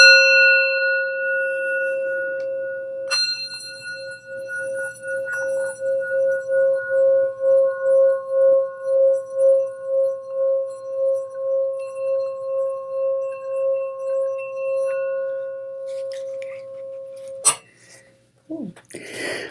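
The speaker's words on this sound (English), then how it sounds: "So let's just ring the sound bowl and we'll get the party started." A sound bowl is struck and rings out in a long sustained tone with a slow, steady pulsing waver. The ring lingers for around fifteen seconds before a sharp cutoff and faint handling noise.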